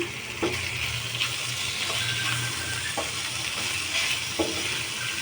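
Chicken pasta seasoned with salt and chili sizzles loudly and steadily in a pan, close up, as a spoon stirs it with a few regular scraping clicks and no talk.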